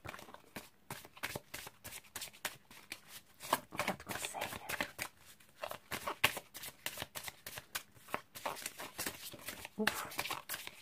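Tarot cards being shuffled for a reading give off soft, repeated riffling flutters in quick bursts, fairly quiet, while a voice talks over them.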